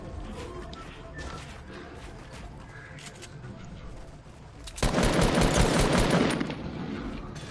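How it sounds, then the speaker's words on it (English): Rapid bursts of automatic gunfire in Fortnite Battle Royale crackle loudly for a couple of seconds after quieter scattered shots and background noise, with no speech. "I think I heard a gunshot."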